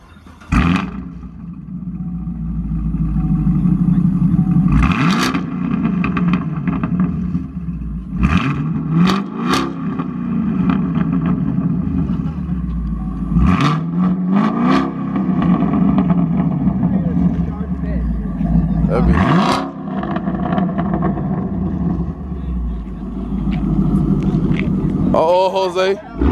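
A V6 Dodge Challenger engine revs loudly in repeated bursts, deep rumbling surges rising and falling close by, with people talking and shouting over it throughout.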